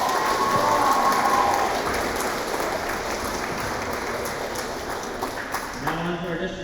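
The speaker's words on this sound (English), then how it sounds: "Let's hear another huge round of applause for the Gravelbourg Hawks." A crowd in a gym applauds the Gravelbourg Hawks after a bantam boys volleyball gold medal game, a steady roar of clapping and cheering that fades slightly before a voice comes in near the end.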